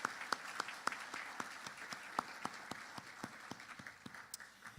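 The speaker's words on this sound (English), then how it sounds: "Let's give all of our small businesses, our quarter winners last year, 2017, a big round of applause" Sparse, faint clapping from a small audience at an annual celebration honoring small business award winners, individual claps distinct and irregular, heard at a distance.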